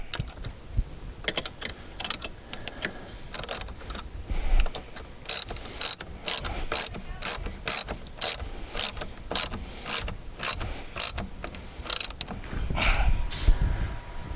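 Bolts being tightened down on a Zurn carrier for a wall-hung toilet, heard as a steady run of sharp, close ratchet clicks repeating at an even rhythm over a low background rumble, with no voice.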